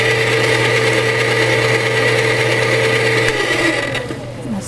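An electric mixer beats lumpy torte batter until smooth, a loud steady motor whine that shifts pitch and fades near the end as the beaters slow.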